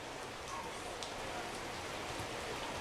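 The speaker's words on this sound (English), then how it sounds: "The driving rain, as you can see your video screen." Driving rain hisses steadily over an outdoor high school girls' soccer field, a faint, even wash of falling drops with no break.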